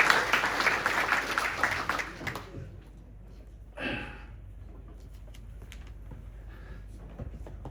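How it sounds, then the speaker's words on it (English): Audience applause at a darts Players Championship event, a dense burst of clapping for about two and a half seconds that then cuts off abruptly, leaving quiet room noise with a brief faint rustle. "Give him a round of applause."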